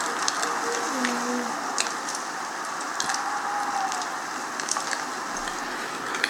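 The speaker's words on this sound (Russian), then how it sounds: "Огонь. Костер. Костер." A campfire crackles steadily, with a continuous hiss of burning and scattered sharp pops and snaps at moderate volume, heard alone without any talking.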